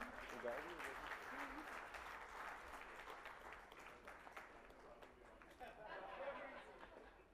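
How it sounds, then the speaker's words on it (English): Audience applause at a summit debate session, a faint, steady spread of clapping mixed with crowd chatter throughout, heard from a distance in a hall. "Can we have a round of applause for him?"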